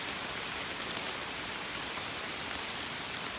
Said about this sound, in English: This rain really fucked us up.